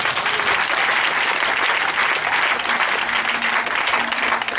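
A church congregation applauds in a continuous, dense wash of clapping that stays loud and even throughout, with no pauses.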